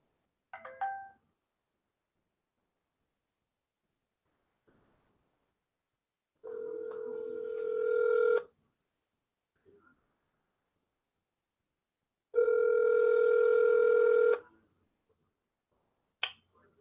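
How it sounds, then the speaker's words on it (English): Telephone keypad tones sound in a quick burst, then a steady dial or ringing tone pulses twice for about two seconds each, separated by silence, with a short click at the end. "me make a phone call real quick"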